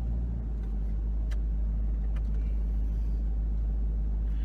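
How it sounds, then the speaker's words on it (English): A 2020 Toyota Land Cruiser creeping off-road in four-wheel low with crawl control engaged, giving a steady, close, low engine drone with faint intermittent clicks and knocks, and no talking. "the car will just get itself out on its own"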